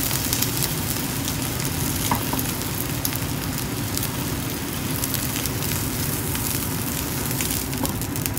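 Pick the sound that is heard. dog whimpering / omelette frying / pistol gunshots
omelette frying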